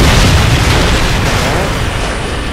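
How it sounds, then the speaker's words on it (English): A missile strike in Call of Duty Modern Warfare 2, heard as a sustained, loud, rumbling roar of explosion that fills the whole stretch without letting up. "Friendly missile inbound."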